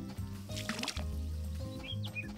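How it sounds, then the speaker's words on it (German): A watering can is filled in the farming video game Story of Seasons: A Wonderful Life, a soft liquid pouring sound under steady background music. "Gießkanne füllen, bitte."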